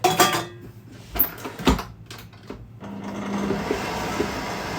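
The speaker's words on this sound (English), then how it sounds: "Now you just cream those together" Butter and caster sugar being creamed together for a vanilla cake: uneven knocks and scrapes of a utensil in a bowl give way to a steady mixer-like whirr running underneath.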